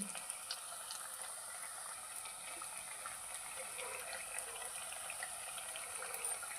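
Snacks deep frying in hot oil for a Telugu home-style recipe, a faint, steady hiss and fine crackle of bubbling oil heard up close, with no voices.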